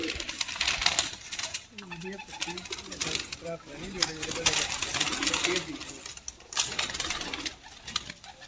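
Fancy pigeons coo at a breeder's home, with low rolling coos repeating throughout over a noisy background, and a voice briefly heard.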